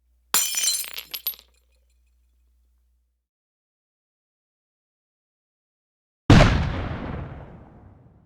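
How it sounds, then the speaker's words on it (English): Cannon fire sounds as one loud, deep boom that rolls off in a long rumbling decay after several seconds of silence, preceded by the brief tail of shattering glass. "Cannon fire!"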